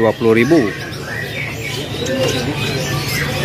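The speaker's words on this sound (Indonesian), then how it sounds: "kenari jenis loper, warna cerah dan sudah terpantau ngeriwik juga ya" A brightly colored loper-type canary gives a short burst of sharp chirps and squawks at the start, followed by quieter trailing calls over a steady background hum.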